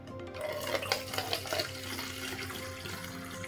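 About one and three-quarter cups of water poured into a 28-ounce plastic spray bottle for homemade cleaner, a quiet, continuous trickling splash lasting a few seconds, with no talking.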